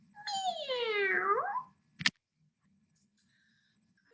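A single drawn-out cat meow sliding downward in pitch, close and clear, followed by a short sharp click and then near silence.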